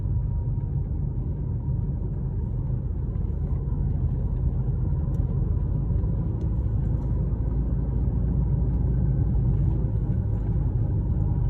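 A car descends a winding mountain road in low gear near a ferry crossing in Uttaradit, Thailand. A low, even engine and road rumble drones steadily throughout at moderate volume.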